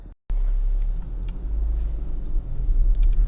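Honda Civic 1.8 i-VTEC EX Plus Tourer estate from the 2014 Euro 5 range on a road test, heard as a steady low engine and road rumble from inside the car. It builds slightly after a brief dropout near the start, with no talk.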